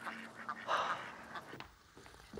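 Ducks on a lake give a few short, nasal quacks at moderate distance, clustered near the start and then thinning out, over a quiet outdoor background.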